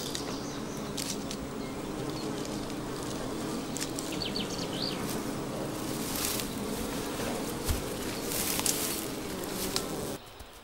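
Wild bees buzzing in a mountain wilderness of the High Tatras, a steady close drone with wings hovering and darting, faint birds calling in the background.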